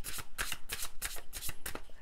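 Tarot cards are shuffled and drawn in a tarot reading, a close, crisp riffling in quick repeated bursts, about seven flicks in two seconds, with no talking.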